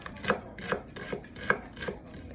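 A knife slices thinly through a shallot on a small cutting board, making five crisp, evenly spaced cuts close by over a steady low background.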